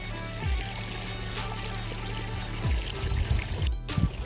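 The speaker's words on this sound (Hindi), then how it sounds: "ये देखिए ये है हमारा प्याज का खेत और हमने इनमें पानी चला दिया है" Irrigation water pours and trickles steadily through furrows in an onion field, a close, continuous wet gurgle with a few sharper splashes toward the end.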